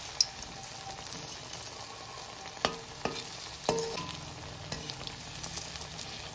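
Pakoras fry in hot oil over a low flame, a continuous bubbling sizzle punctuated by a few clinks and scrapes of a spatula turning them, close and with no speech.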